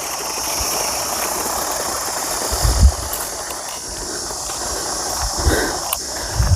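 A toy RC Mahindra tractor drives along a road, its small motor giving a steady whirring drone with occasional low rattles and bumps throughout, no talking.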